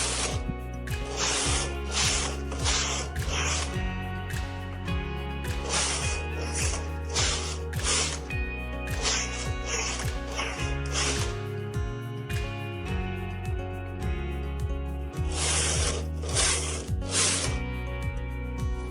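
A knitting machine carriage is pushed across the needle bed, knitting stockinette rows in main-colour yarn for a bag. Loud, close, swishing mechanical clatter comes in repeated passes separated by brief lulls, over a steady low rumble.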